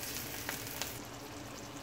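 Irish potatoes sizzle steadily in a pan while cooking for a Jamaican-style curry, a close, even frying hiss with a couple of faint clicks and no talk.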